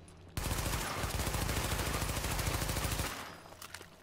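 Automatic gunfire in Tom Clancy's The Division comes as a rapid, loud burst of evenly spaced shots lasting nearly three seconds, then fades into a few scattered distant pops.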